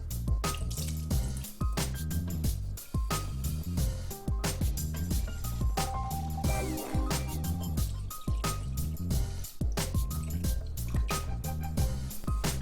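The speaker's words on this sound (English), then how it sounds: "Then I'm adding cold milk." Cold milk being poured onto egg yolks for a pastry cream, a continuous close liquid splash and trickle running throughout, with music playing underneath.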